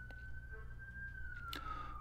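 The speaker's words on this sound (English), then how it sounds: "Sorry if there's sirens in the background." Emergency vehicle siren outside a home next to an emergency room, a steady wailing tone sounding at moderate distance throughout, with a brief clatter partway through.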